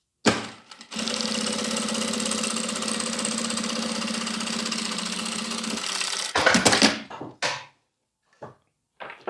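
Sewing machine topstitching a clear plastic phone pouch, a steady close mechanical whir for about six seconds, then a few short stitching bursts and pauses.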